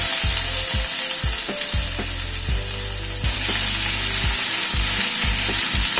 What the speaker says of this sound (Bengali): রসুনটাকে একটু হালকা ফ্রাই করে নিচ্ছি। এখানে একটা বড় পেঁয়াজ কুচিয়ে নিয়েছি, সেটা দিয়ে দিলাম।